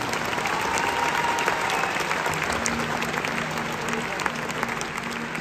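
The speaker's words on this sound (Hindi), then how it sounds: "कोई जोरदार ताली अपने पेरेंट्स के नाम की" A live concert audience at a show in Jaipur gives loud, sustained applause for their parents. The thick, even clapping carries on without a break, with faint tonal sounds in the background.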